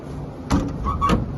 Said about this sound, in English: The side emergency door right here, it opens, latches, and closes smoothly.